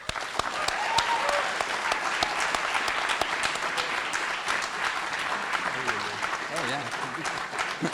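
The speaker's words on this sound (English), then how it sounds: "I hope you all join me in giving him a round of applause and bring him out here." An audience gives a round of applause welcoming a speaker to a talk on the future of cannabis, with steady, fairly even clapping throughout and a voice calling out briefly near the end.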